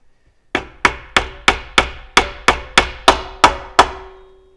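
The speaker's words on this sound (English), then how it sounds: "get it started a little bit and then hammer it in the rest of the way" A hammer strikes hard about eleven times in a steady, even rhythm, driving a threaded insert into a wooden arm, each blow a sharp, ringing knock on wood, close and loud with no talking.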